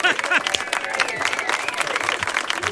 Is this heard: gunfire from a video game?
no